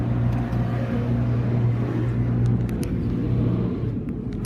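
Undercarriage spray of a Mark VII ChoiceWash XT automatic car wash at a Shell station in Keswick, heard from inside the car as a steady, loud rumbling wash of water and machinery that holds throughout.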